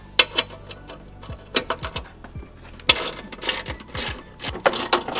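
A ratchet wrench with a 13 mm socket takes bolts out during a cooling kit install on a BMW M340i. It makes bursts of quick, close clicking ratchet sounds separated by short pauses and light metallic handling noises.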